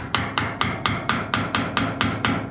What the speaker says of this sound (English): Let me get the hammer and I'll just try to beat it into place.